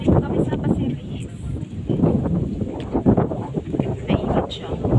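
Strong wind buffeting the microphone at a beach, a steady roaring rumble that fills the whole stretch with no break and drowns out everything else.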